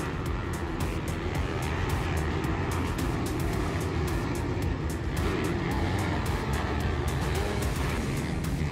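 Motocross bikes race around the track at a round of the French Elite Motocross championship in Villars. A dense, continuous engine roar rises and falls as riders overtake, heard from a distance without any voices.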